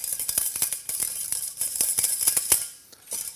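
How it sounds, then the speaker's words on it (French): A whisk beats egg yolks and sugar in a small saucepan, giving a fast, steady run of close metallic ticks that pauses briefly near the end. "Je vais commencer à fouetter."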